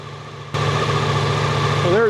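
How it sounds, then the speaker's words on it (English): A motorcycle engine starts abruptly and settles into a steady, close idle hum, with a brief rising whine near the end. "Let's go ahead and start the bike again and see what we get."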